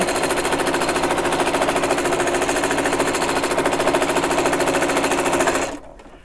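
A sewing machine stitches quilting lines on an oven mitt with a fast, steady mechanical chatter, loud and close, running unbroken before cutting off near the end.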